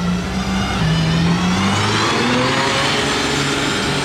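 A Mercedes G-Class 4x4 squared on oversized tires accelerates through city traffic, its engine climbing in pitch through several rising revs, close and loud with steady street noise around it.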